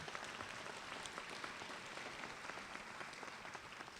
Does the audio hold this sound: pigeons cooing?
no